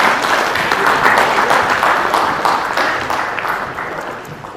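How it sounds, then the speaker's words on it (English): Audience at an entrepreneurship conclave applauds a speaker called to the stage, dense clapping from many people that swells early and gradually thins out toward the end. "A big round of applause for Mr. Deepak Bagla."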